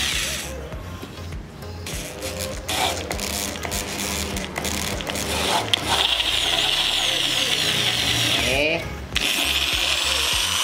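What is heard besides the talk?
tap and die threading tool turning into metal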